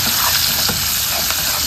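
Onion cooking in oil in a pan makes a dense, loud, even sizzling hiss, heard close up for a brief stretch with faint scraping underneath.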